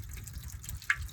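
Water dribbling weakly out of a pressure-type float valve into a livestock trough in a pasture, a faint steady trickle with one small splash near the end.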